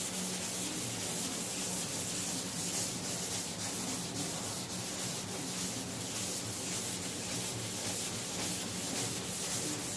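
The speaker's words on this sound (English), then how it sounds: "This is why I wet sand." A sanding block rubs steadily back and forth over the wet paint of a 1958 MGA car door, making a continuous close gritty scrubbing with even strokes, moderately quiet and uninterrupted by speech.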